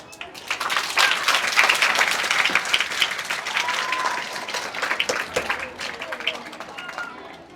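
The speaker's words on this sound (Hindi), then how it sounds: "एक बार जोरदार तालियां।" An audience at a comedy school-event sketch claps loudly and steadily for several seconds, a dense, close patter of many hands that stays strong before thinning slightly toward the end.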